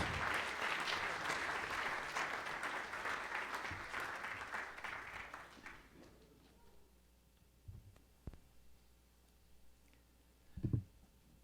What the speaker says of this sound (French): je vous invite à applaudir mon ami Jacques Rougerie.